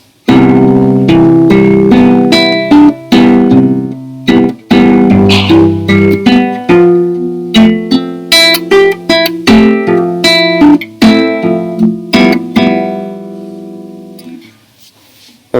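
Plucked stringed instrument picking the first line of a tune, a bright, close melody of distinct notes in steady rhythm that fades to silence at the end.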